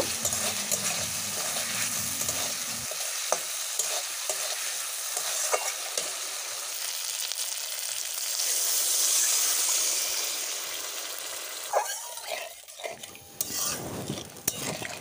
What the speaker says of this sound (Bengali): লবণ দিয়ে বেশ কিছুক্ষণ কষিয়ে এবার জল দিয়ে দেব।